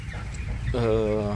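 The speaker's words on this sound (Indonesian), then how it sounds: "Tapi lihat ayamnya tuh. Ya, ke tempat pakan tuh." Broiler chickens about 18 days old gathering at the feeder, with a brief clear cluck rising near the end over low farmyard background noise.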